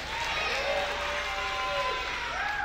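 A live audience cheers and makes noise before a show starts, a steady continuous roar of crowd voices, applause and whoops that stays loud throughout.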